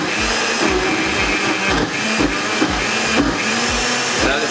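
A kitchen blender working through thick Oreo cream runs as a loud, close, steady motor whir with rhythmic thumping pulses as the mixture churns, and no voices over it.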